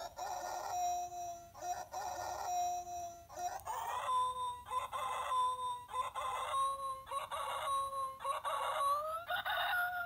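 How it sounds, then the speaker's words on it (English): Electronic rooster crow from a SmartLab Smart Circuits kit, a buzzy synthetic tone repeating in rising and falling cock-a-doodle-doo phrases with shifting pitch, loud and close, no voices. "The rooster."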